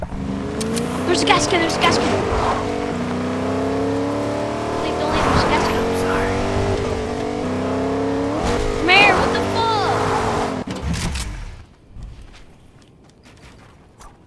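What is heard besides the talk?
car engine driving in Fortnite video game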